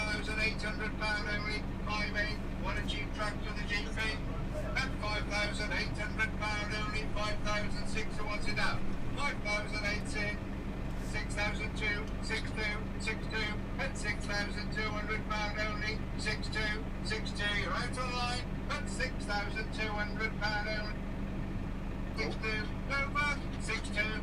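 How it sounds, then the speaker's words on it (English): A Massey Harris GP steel-wheel four-wheel-drive tractor runs with a steady, rumbling engine drone that holds an even pitch and level for over twenty seconds, fairly close by. "So this is a Massey Harris GP tractor."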